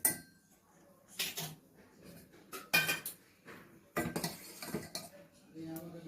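A spoon stirs a creamy coffee mixture in a pot while it thickens. There are intermittent scraping and clinking strokes against the metal, separated by quiet gaps, heard close up and fairly softly.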